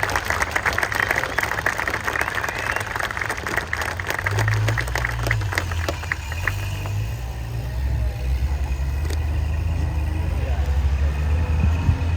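An audience applauds the crews of Canadian Military Pattern (CMP) trucks at the Ontario Regiment Museum's Aquino Tank Week show. Clapping is dense early on and fades, and a vehicle engine rumbles underneath the whole time.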